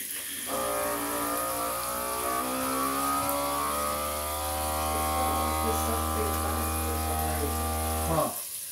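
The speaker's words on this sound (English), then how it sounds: "It sucked a little bit as much as it was going to suck, and it turned on the seal." Vacuum sealer pumping air from a bag before sealing: a steady, buzzing motor hum starts abruptly, runs evenly for about eight seconds, then cuts off sharply, heard close with no talk.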